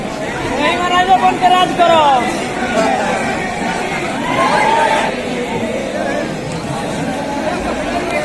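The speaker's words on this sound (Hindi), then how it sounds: "वहाँ पे भीड़ लगी हुई है।" Crowd hubbub at the Sur Sangram singing audition in Patna, a dense steady babble of many voices with chatter swelling and fading throughout.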